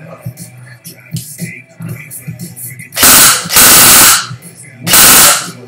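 Airsoft AEG RK74 AK-style rifle on full-auto, two loud rapid buzzing bursts from a fast motor, following quieter handling clicks and someone talking.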